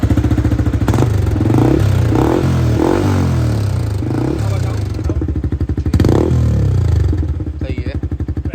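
A Yamaha R15M fitted with an Akrapovic full-system exhaust revs loudly up close, the engine rising and falling in repeated throttle blips with a rough idle between them, and voices can be heard over it.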